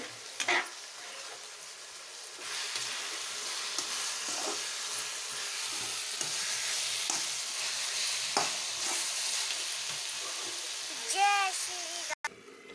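Goat head meat curry bubbles and sizzles in a pot, a steady soft simmer with a few scrapes and stirs, and a voice talks briefly near the end.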